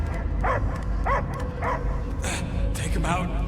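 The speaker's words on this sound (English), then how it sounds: "I hear only barking." A dog in the Guardians of the Galaxy video game gives a series of short barks and yips, about five distinct calls spaced through the moment, over a low rumbling game backdrop.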